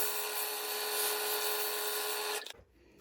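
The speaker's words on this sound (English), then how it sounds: "And do a little sanding in there." Loud, steady whirring with a harsh abrasive hiss as a sycamore salad bowl is sanded while spinning, running continuously before cutting off abruptly near the end.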